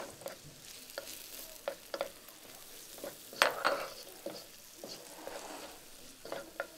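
Scraping and stirring in a hot pan with a soft sizzle underneath, a spatula clinking against the metal in irregular strokes, close by.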